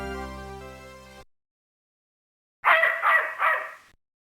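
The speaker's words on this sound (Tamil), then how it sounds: "என்னுடைய நாய் எலிஸுக்கு என்ன ஆயிடுச்சு?" In the Sega CD game Snatcher, a held electronic tone cuts off, and after a pause a dog barks three times in a quick, evenly spaced series, fairly loud and close.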